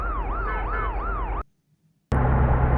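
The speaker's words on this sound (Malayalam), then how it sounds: "ഒരു പോലീസ് വണ്ടിയും വരുന്നുണ്ട് റിവേഴ്സ്." A police car siren wails loudly in a fast, repeating up-down sweep on a road in heavy rain, then cuts off abruptly; after a short silence, loud road noise returns.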